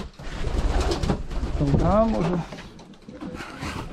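Pigeons coo inside a loft at a racing pigeon breeding farm, a clear rolling coo rising and falling near the middle, with someone speaking over and around it.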